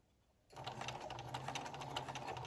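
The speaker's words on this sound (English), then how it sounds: "sew at a 45 degree angle right into the corner" After a brief quiet moment, a sewing machine starts up and stitches single-fold binding at a 45-degree angle into a corner, steadily with a fast, even mechanical rattle, close by.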